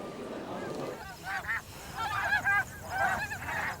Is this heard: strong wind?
no